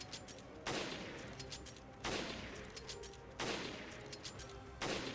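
Gunfire in Resident Evil: Revelations shooting at Skagdead enemies: four heavy blasts about every 1.4 seconds, each decaying into a long rumbling tail over constant low game ambience.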